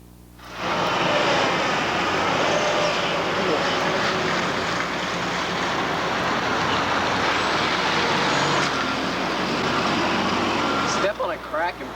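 An air ambulance helicopter at a high school demonstration gives a loud, steady engine and rotor roar that starts abruptly and holds for about ten seconds before cutting off, with no voices clearly heard.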